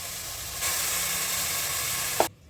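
Ground onion, garlic and spice masala for mutton kaima saaru hits a hot pan with a loud, steady sizzle that swells after a moment, holds for about two seconds, then cuts off abruptly.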